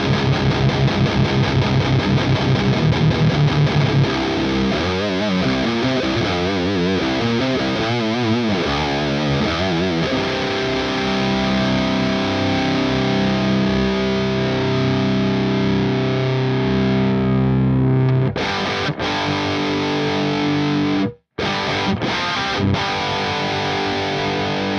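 Electric guitar run through an Axe-Fx III Diezel amp model with the gain fully up, heavily distorted chords and sustained notes, loud and dense, ringing out with brief cuts near the end.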